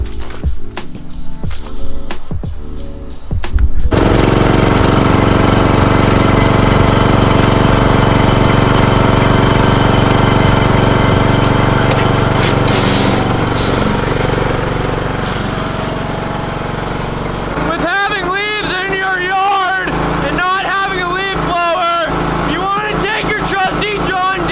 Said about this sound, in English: This right here is my trusty John Deere.